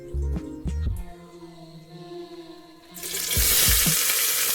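Onions, green chilies, curry leaves and coriander leaves tossed into hot oil in a pan, a loud steady sizzle swelling up after a few clanks and stirring knocks at the start.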